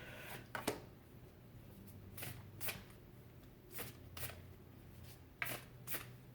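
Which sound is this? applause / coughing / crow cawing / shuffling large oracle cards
shuffling large oracle cards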